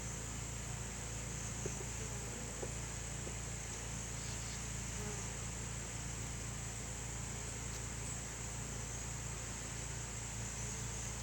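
A steady, dense buzz from a tiny honeybee colony hums throughout, even and continuous, with no clear breaks and no voices.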